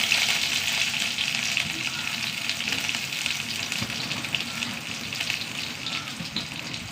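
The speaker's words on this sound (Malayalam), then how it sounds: "ഉള്ളി നന്നായി മൂക്കട്ടെ." Sliced shallots, dried red chillies and curry leaves fry in hot oil after mustard seeds, giving a dense, steady sizzling crackle up close that fades slightly over several seconds.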